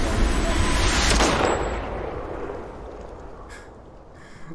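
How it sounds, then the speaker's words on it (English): A single loud gunshot-like bang opens with a sharp broadband burst and long decaying rumble, fading over several seconds with faint noises near the end; no one speaks. "That gunshot?"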